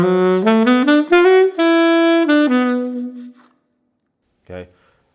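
A solo saxophone plays a lively melodic phrase of quick stepping notes and a few held tones, ending with a brief short note after a pause.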